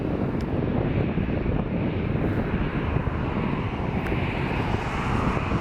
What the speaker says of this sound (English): Delta ERJ-175, our first Delta that we're going to see for the day as well.